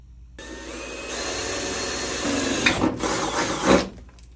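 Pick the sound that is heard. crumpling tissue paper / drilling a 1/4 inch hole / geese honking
drilling a 1/4 inch hole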